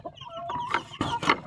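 Backyard chickens clucking close by in short, uneven bursts, a brief busy run of hen calls with no talking.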